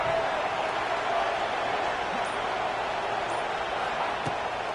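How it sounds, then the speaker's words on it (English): Steady, dense roar of a college football stadium crowd at the start of the fourth quarter in an NCAA football video game, holding constant intensity with no breaks. "No fall off from the noise or intensity from this crowd as we start the fourth quarter."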